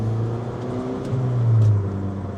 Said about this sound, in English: I opened my windows so you can hear this great exhaust from this little Fiat